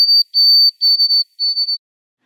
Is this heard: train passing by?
no